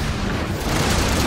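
Gunfire and battle noise in the shooter game Halo 4, a dense, loud, continuous wash of shots and booms with no clear gaps.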